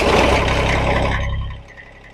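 A Kubota BX2660 compact tractor's engine fires up with a loud, close rumble that quickly settles and fades toward a steady idle.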